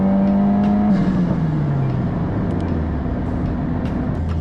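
A 2022 Subaru WRX pulls hard in third gear, its engine a loud, steady droning roar whose pitch shifts as it accelerates, heard from close by with no talking.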